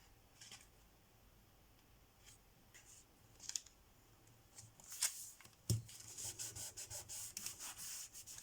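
Paper being cut for a Stamperia Provence lavender craft folio, faint scattered rubbing and snipping at first, then a denser run of close scratchy cuts near the end.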